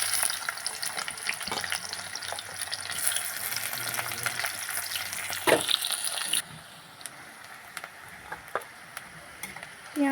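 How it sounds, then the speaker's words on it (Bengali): Chopped onions fry in hot oil with a bright, steady sizzle and occasional stirring scrapes; the sizzle drops sharply to a quieter hiss about two-thirds of the way through. "তেলটা গরম হয়ে গেছে, এবারে দেব আমি কুচানো পেঁয়াজ।"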